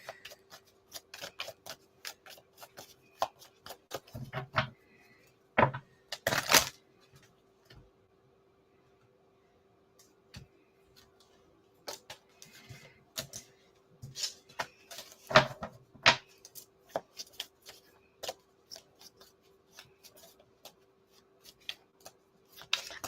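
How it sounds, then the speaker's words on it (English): A deck of tarot cards is shuffled by hand in quiet bursts of crisp riffling and tapping, with pauses of near silence between the flurries. "Let me just shuffle these cards a little bit for you."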